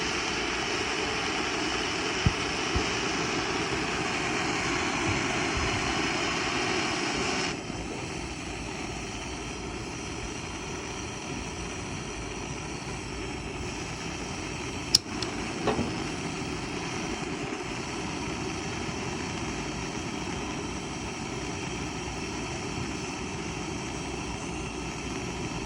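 A generator runs in night fog beside a quick-lite camp cooking setup, giving a continuous, loud, even engine drone that shifts slightly in tone partway through, with a brief click or knock heard near the middle.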